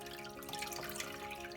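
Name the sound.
water dripping from squeezed wet yarn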